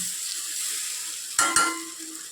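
Potatoes fry in a pan for a Bengali potol-prawn dish, a soft steady sizzle broken by two sharp clatters of a spatula stirring against the pan midway, close and with no talk.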